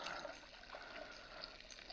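Water drains from a tank in a quiet, steady trickle that is faint and continuous, with no one speaking.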